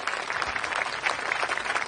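A crowd claps steadily through a farewell party scene in a comedy film, a dense, even patter of many hands lasting about two seconds with no voices standing out.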